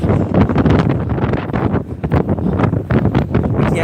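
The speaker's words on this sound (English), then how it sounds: "I'm getting blown back by the wind" Strong wind blowing on a beach in Da Nang, Vietnam, buffeting the microphone in loud, irregular gusts that roar and rumble throughout with no talking.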